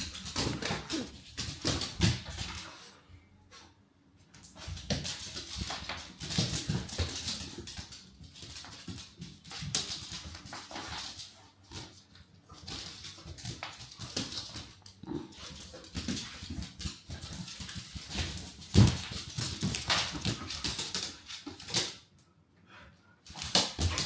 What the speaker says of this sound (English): This is my son's dog.